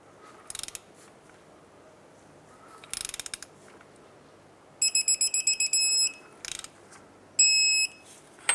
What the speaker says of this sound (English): Okay, now that it's bottomed out, let's torque it. Torque this to 67 foot-pounds.